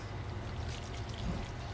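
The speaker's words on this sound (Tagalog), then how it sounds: "babanlawan ko muna siya ng malamig na tubig na galing sa gripo" Cooked macaroni rinsed under cold tap water, a soft, steady rush of running water splashing over pasta, fairly quiet and continuous for the short stretch.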